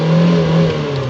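A Hyundai Coupe engine with catalytic converters revs loudly and close by, giving a brief, sustained tonal roar that eases slightly toward the end.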